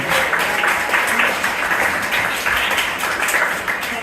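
Sustained applause from an audience for doctors, nurses and essential workers, a steady dense wash of clapping that stays loud and even throughout with no voices standing out.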